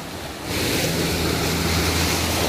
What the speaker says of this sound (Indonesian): Gelombangnya ini gelombang laut.